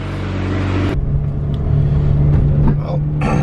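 Honda EF car with a D15 engine pulling away, a low steady engine rumble and road noise from inside the cabin, with a brief voice at the start.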